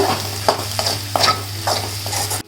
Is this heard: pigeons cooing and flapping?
no